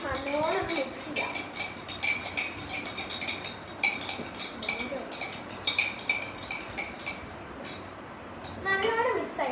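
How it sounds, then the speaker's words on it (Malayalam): A spoon stirs a cold coffee mixture in a container, making repeated quick metallic clinks and scrapes in an uneven rhythm, close and fairly clear. "ഇനി നമുക്കൊരു സ്പൂൺ എടുത്തിട്ട് നല്ലോണം മിക്സ് ചെയ്യാം."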